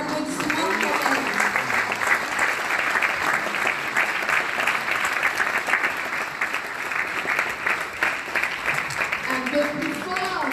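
A crowd applauds a woman at a chiefdom parade in Cameroon, dense continuous clapping at steady volume throughout, with voices faintly mixed in underneath.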